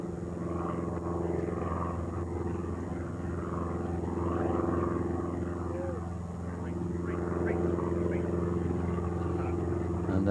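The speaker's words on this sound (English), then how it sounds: "I hear the engines of an aircraft overhead" Old DC-3 Dakota aircraft engines droning overhead during the final round of the Open golf championship at St Andrews, a steady low rumble beneath a golf commentator's talk.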